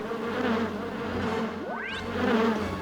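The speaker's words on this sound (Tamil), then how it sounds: "தேனீக்கள் கோவமா இருக்குடா" Angry cartoon bees buzz steadily and loudly in a Tamil comedy cartoon, with a quick rising swoosh effect cutting through the drone midway; no one speaks.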